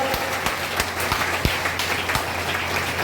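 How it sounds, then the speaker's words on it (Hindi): A crowd at a large DXN business meeting in Jehanabad breaks into loud, sustained applause, dense overlapping claps with sharper individual hand strikes standing out throughout the short burst. "विधिवत तरीका से दोनों हाथों से दीजिए, जोरदार ताली के साथ, जोरदार ताली के साथ।"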